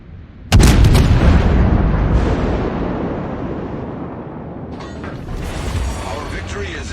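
Heavy naval gunfire in World of Warships: a loud booming broadband salvo hits at the start and rolls off into a long rumbling decay, with more crackling blasts swelling near the end.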